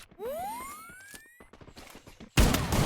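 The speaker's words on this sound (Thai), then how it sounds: "ยิงคนตายด้วยว่ะ" Video game gunfire rings out, a rising whine and scattered clicks giving way near the end to a sudden loud burst of shots, with no talking.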